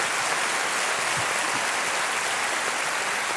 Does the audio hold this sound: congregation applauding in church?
yes